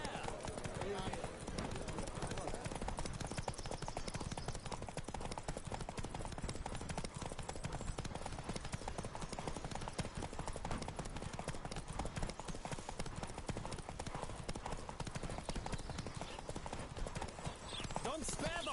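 Horse hooves galloping in The Witcher 3: Wild Hunt, a rapid, continuous drumming of hoofbeats at close range held throughout, with voices talking over it.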